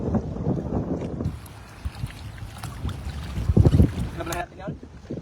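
Gusty afternoon wind buffets the microphone during net fishing, with a low rumbling roar throughout, while a person talks underneath and faint background noises come and go.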